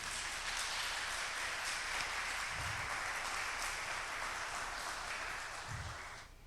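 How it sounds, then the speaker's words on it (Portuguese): Congregation in a church applauding, a steady, fairly faint wash of clapping that holds throughout and thins slightly at the end, with a couple of low thumps. "Dê uma salva de palmas para Ele."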